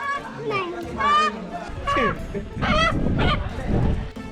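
A rooster lets out several loud, harsh squawks in short bursts, close by, with voices nearby, on the Adrai jungle trek in Maharashtra.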